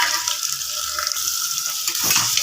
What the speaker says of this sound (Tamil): இப்போ நம்ம வெங்காயம் சேர்த்துக்கலாம்.